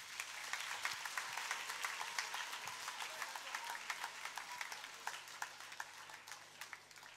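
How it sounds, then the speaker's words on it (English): Crowd applause from an audience at a school Christmas carol concert, many hands clapping steadily, slightly distant and fairly faint, tapering into scattered claps toward the end. "Let's have a round of applause"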